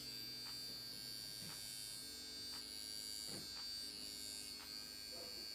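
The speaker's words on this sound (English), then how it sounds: "shout out to this little hair removal thing" A small handheld electric hair removal trimmer runs with a steady, thin high-pitched whine and faint mains-like hum, continuous and close for several seconds with a few soft clicks and brushes as it is moved over skin.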